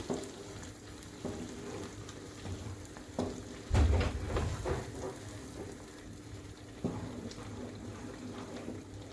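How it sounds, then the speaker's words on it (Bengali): Green peas being stirred in a pan while their moisture cooks off for kachuri filling, a faint, steady sizzle with soft scraping and a louder clatter of the spoon near the middle. "আস্তে আস্তে নাড়তে থাকবো।"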